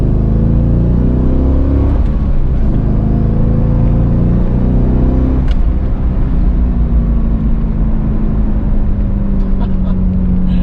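A Chevrolet C5 Corvette engine rumbles loudly from inside the car while driving, revving up through several gear changes with a deep, continuous drone.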